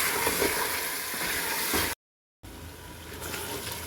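Chicken fries in oil with a tablespoon of crushed ginger, giving a loud, continuous close-up sizzle that cuts out briefly partway through and then resumes.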